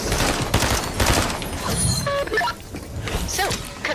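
Dense, sustained gunfire from the video game Fortnite, with rapid overlapping shots and crashing impacts, loud and continuous for several seconds.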